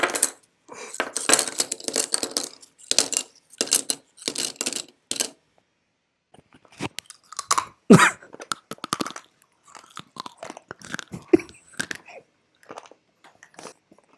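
Several people chew 30-year-old Topps wax-pack baseball card bubblegum, making brittle crunching and chewing bursts in irregular clusters, close up, with quiet gaps and no talk.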